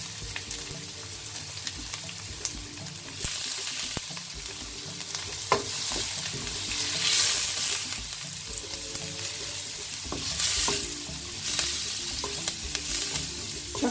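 Vegetables seasoned with curry powder stir-fry for an instant noodle dish, crackling and sizzling steadily in a hot pan at close range, with swells of louder hissing and occasional scraping of the utensil.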